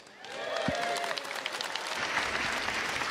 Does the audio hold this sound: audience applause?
yes